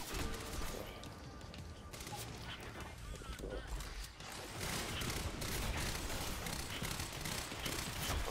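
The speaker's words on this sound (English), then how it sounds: "Shotgun." Shotgun blasts and dense gunfire fill a firefight in Quantum Break, a steady wash of shots and impacts at low level with a voice speaking now and then.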